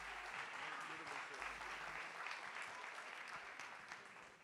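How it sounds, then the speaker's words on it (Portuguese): A church congregation applauds at a conference service, a faint, distant wash of many hands clapping that holds steady for several seconds, with no clear voices on top. "Você pode aplaudir ao Senhor bem forte."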